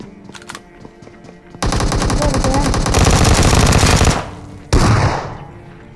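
Dense, loud bursts of automatic gunfire from a PUBG game fill the scene, a long sustained volley followed by a brief pause and another short burst, with background game ambience.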